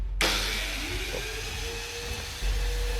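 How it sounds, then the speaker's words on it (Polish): A Wuber construction vacuum starts up with a Celma PRBt 225 drywall sander and keeps running, a loud, steady whooshing whine with a low rumble underneath. "W ten sposób odkurzacz będzie się sam uruchamiał zaraz po tym, jak włączymy szlifierkę."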